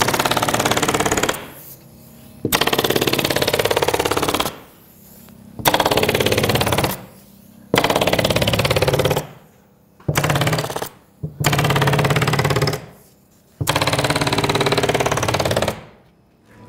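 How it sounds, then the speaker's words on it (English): An automatic staple gun firing in long rapid bursts while stapling insulation net to wall studs, loud repeated runs of several seconds each, separated by short pauses. "it's a matter of just stapling off the studs with my automatic gun."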